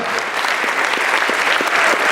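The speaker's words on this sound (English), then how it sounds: "Let's give her another warm round of applause." Warm audience applause for Karen Zundel at a farewell concert recognition and awards event, a steady dense wash of many hands clapping that holds evenly throughout.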